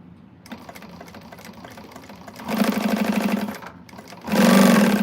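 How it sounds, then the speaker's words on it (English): A sewing machine stitches a bag seam in quick, even bursts, running steadily, then pausing and starting again with a louder, faster run at the end, close and alone with no talking. "Just stitch right up to where your seam is."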